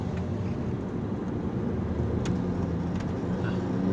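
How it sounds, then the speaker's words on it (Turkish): A VW Passat 1.4 TSI 122 hp CAX engine with a faulty ignition coil runs in high gear at low revs with the air conditioning on, a steady low rumble broken by two brief misfire knocks late on. "Tekledi. Patlıyor canım. İki kere vurdu."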